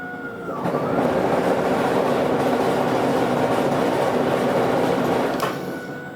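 A Toro Power Max e24 60V electric two-stage snowblower running with a steady, loud whirring motor drone that ramps up within a second, holds evenly for several seconds, then begins to wind down.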